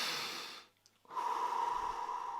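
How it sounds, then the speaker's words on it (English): A person breathes through the nose: a long breathy exhale, a brief quiet gap, then a steady, fairly loud intake or exhale with a faint whistling tone, close to the microphone. "Breathing."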